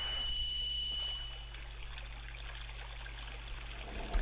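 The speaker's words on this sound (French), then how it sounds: "Et la source d'eau reprend vie." A water spring flows in Ikana Valley in the video game Zelda Majora's Mask 3D, a soft continuous trickle and stream wash over a steady low hum, with no talking.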